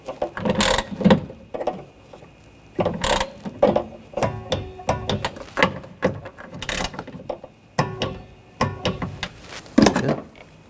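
Repeated ratchet clicks and metallic tool noises as bolts on the rear window regulator of a 2014-2020 Nissan Rogue are torqued, coming in irregular close bursts with short pauses between them.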